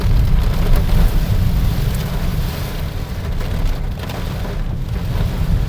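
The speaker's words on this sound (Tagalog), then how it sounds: "Grabe ang lakas ng ulan." Heavy rain pounds a vehicle driving along a road in a downpour so thick the way ahead is barely visible, a dense, steady roar with low rumble throughout, loud and unbroken with no talk.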